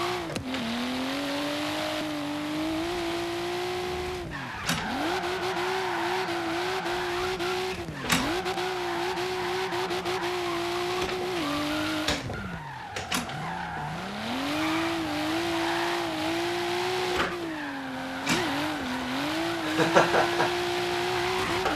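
Car drifting in a racing video game played with a Logitech wheel and handbrake mod, a steady revving engine rising and dipping through gear changes with tire squeal during slides, loud and continuous.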